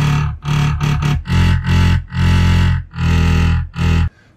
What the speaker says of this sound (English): Most importantly, we need gigantic bass sounds. So here's two of them.